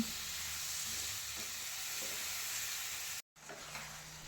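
Tomatoes fry in a pan for tomato pickle, a steady close sizzle with faint stirring scrapes, briefly cut off before resuming.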